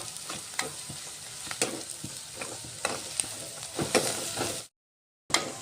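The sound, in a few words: onion frying until browned for vegetable gravy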